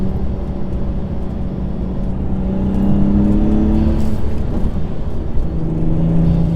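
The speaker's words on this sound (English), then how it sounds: "Third gear pull coming." A BMW 135i pulls hard in third gear, its engine note climbing steadily in pitch as revs rise, loud and close with a steady droning tone and no talking.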